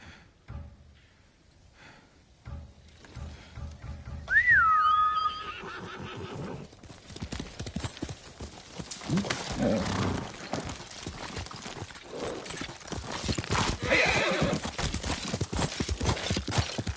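A horse whinnies once, clear and fairly close, amid the steady clip-clop of hooves and outdoor ambience, in the samurai adventure game Ghost of Tsushima, where Yuriko's horse stands nearby.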